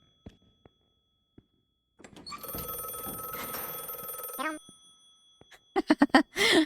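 A telephone in The Last Case of John Morley video game rings in a sustained electronic trill lasting about two seconds, loud and near, framed by scattered clicks before it and sharp thuds after it.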